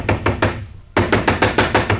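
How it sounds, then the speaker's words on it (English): Heavy pounding knocks on a door at night, a loud close burst of four blows, a short pause, then a faster run of about seven hard thuds, with no voices. "it was that infernal pounding on the door"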